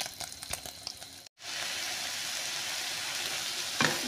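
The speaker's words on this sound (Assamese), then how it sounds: "নহৰুখিনি ধুনীয়াকৈ ভাজি লৈ মই এইখিনি ইয়াত দিলোঁ। এইখিনি ধুনীয়াকৈ ভাজি থাকিম।" Garlic frying in a pan for an Assamese home curry, a bright steady sizzle that cuts out briefly, then returns loud and continuous, with stirring clatter near the start and end.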